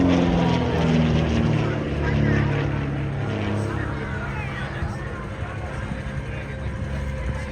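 An aerobatic propeller aircraft flying an aileron roll at the Oshkosh 2023 airshow, a loud continuous engine and propeller drone that swells slightly mid-roll, with voices underneath.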